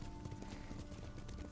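A horse's hooves pound in a quick, steady galloping rhythm in the video game Ghost of Tsushima, fairly faint and with no talking.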